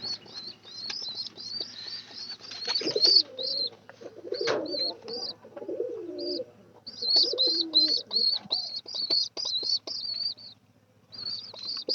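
Pigeons coo softly up close in a loft, low throaty rolling calls in bursts, mixed with repeated high thin chirps and a brief flutter of wings.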